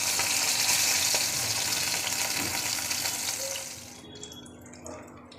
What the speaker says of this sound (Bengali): বাকি মাছগুলো একইভাবে ভেজে নেব।